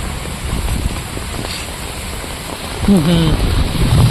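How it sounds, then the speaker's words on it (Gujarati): Heavy rain that has been falling for about two hours and flooding the ground, a loud, steady hiss of downpour close by, with a voice briefly speaking near the end. "લગભગ 2 કલાક થઈ ગઈ ચાલુ છે વરસાદ"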